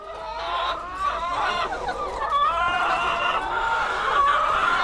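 Several chickens cluck and murmur continuously at moderate volume, a busy overlapping chatter of a flock nearby.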